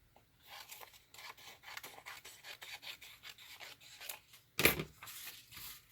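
Scissors trim the edges off a book page with a run of soft, close rasping cuts and slides, then one sharper loud snip near the end, with no talking.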